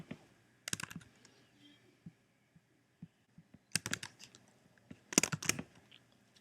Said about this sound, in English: when I type that in here